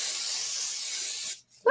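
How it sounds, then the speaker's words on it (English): Buttery cooking spray hisses out of the can onto a small warm pan in one steady burst of just over a second, then cuts off abruptly before someone starts speaking. "Okay, so now I'm going to spray it."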